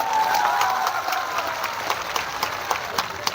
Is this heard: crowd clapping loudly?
yes